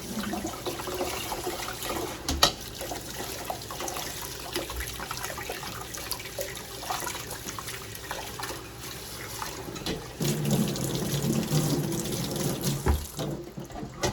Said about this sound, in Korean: 이제 1분이 지나고 흐르는 물로 미나리를 2번 정도 깨끗이 씻어 주세요.